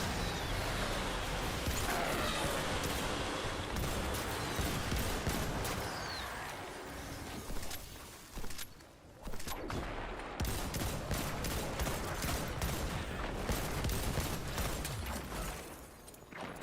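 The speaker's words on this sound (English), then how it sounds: "it takes so many shots of this thing to kill the freaking barrier champion" Rapid sustained gunfire from Destiny 2 against a barrier champion enemy: a dense, loud stream of shots with brief pauses near the middle, then firing again, alongside other game effects and no talking.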